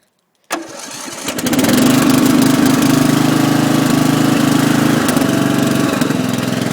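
A ride-on lawn mower engine cranks and catches after a short silence, then settles into a loud, steady running drone that holds to the end without any talk.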